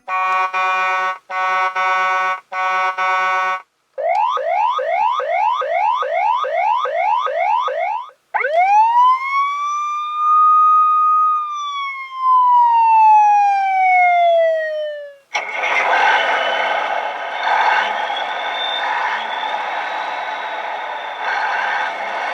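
A Hess 2023 toy police truck siren cycles through several electronic patterns: rapid beeping, quick rising whoops, a long wailing sweep, then a buzzy warbling tone, loud and close.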